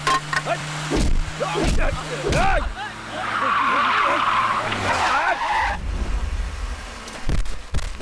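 A car skids during a chase, its tires squealing loudly and repeatedly in wavering screeches over a revving engine, with shouting voices and impact-like thuds in between.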